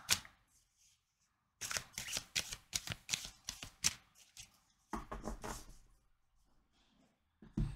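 Tarot cards being shuffled by hand in close, crisp bursts of riffling and snapping, separated by brief quiet gaps, with no talking.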